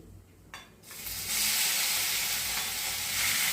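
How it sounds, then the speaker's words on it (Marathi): Grated potato for an aloo paratha filling hits a hot pan and breaks into a loud, steady sizzle after a brief quieter scrape and stir, close and with no talking. "आता हा खिसलेला सगळा बटाटा त्याच्यात मी घालून घेतलेला आहे"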